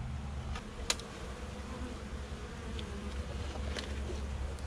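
A steady, low honey bee buzz hums throughout, like bees droning close by during honey harvesting, with a couple of faint clicks and no voices.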